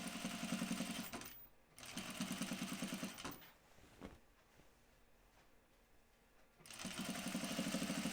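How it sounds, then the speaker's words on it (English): Sewing machine running in rapid bursts while top stitching a V-neck neckline, fast rhythmic needle chatter in two stretches separated by a quieter pause with small handling noises. "I'm just going to top stitch my neckline."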